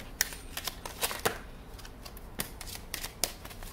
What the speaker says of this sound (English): That was a weird shuffle.